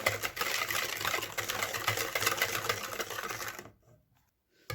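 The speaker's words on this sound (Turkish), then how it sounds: "Şimdi bunları da tabii ki güzelce bir çırpıyoruz. Şu sıvı karışımını iyice bir güzelce birbirine kaynaştıracağız." A liquid mixture for Bosnian cookies being whisked in a bowl, giving a steady, fairly loud rapid rattling whir that runs continuously, then stops abruptly near the end with brief quiet.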